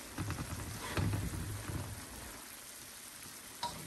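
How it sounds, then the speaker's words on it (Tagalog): An uneven frying pan rattles and sizzles on the stove during cooking, a soft hissing fry with low irregular knocking of the pan in the first half and a single sharp clink near the end, fairly faint and close. "Tensya na, maingay kasi hindi pantay itong kawali."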